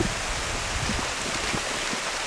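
Steady rain falls at a cove in Luzon, a dense, constant hiss of drops with no break, fairly loud and close.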